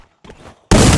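A sharp burst of gunfire from a competitive video game match, a loud dense crack that erupts after a brief quieter scuffle, filling the end of the moment at full volume.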